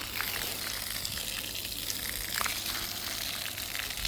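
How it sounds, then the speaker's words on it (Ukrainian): Water gushes steadily out of a borehole being flushed after cleaning of sand and rust, a constant loud hissing rush with no breaks and no voices. "побігла водичка"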